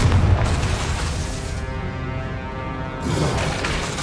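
A Confringo blasting spell explodes in Hogwarts Legacy gameplay: a loud, dense, booming blast that rumbles steadily, dips slightly in the middle, then swells again near the end.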